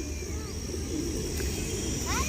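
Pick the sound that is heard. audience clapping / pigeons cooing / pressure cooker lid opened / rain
pigeons cooing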